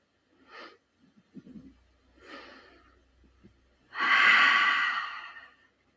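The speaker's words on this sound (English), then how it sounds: "Inhale nose. Exhale mouth." During a yoga session, a person breathes in twice softly through the nose, then lets out one long, loud exhale through the mouth, close to the microphone.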